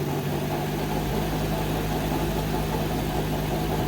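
The engine of a 2013 Nissan Versa runs at a steady idle after a jump start from a jump box, a close, continuous rumble with a rough vibrating hum and faint knocking texture.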